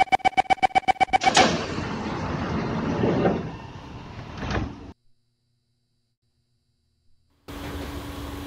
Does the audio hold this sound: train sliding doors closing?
yes